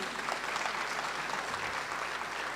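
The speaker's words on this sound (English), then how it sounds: "A round of applause for Kennedy." Steady applause from an audience at a graduation ceremony, a continuous even clapping at moderate distance that carries on through the whole moment with no pause.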